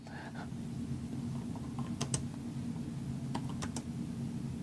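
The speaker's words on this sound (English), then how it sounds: "here's what I would recommend that you type into Google" Someone types a search into Google on a computer keyboard, giving quick scattered key clicks over a low steady room hum, close by and fairly quiet.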